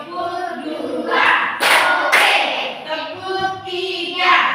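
Children in a classroom clap hands together in a short chant-led clapping routine, a couple of sharp clap bursts standing out over continuous speech and voices.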